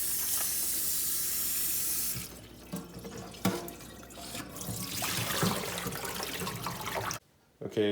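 Tap water runs into a kitchen sink while napa cabbage is rinsed for kimchi, a steady hiss of flowing water with splashes and handling clatter, then an abrupt cut-off near the end.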